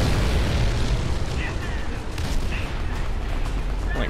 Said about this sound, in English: Like fucking carpet bombing the place.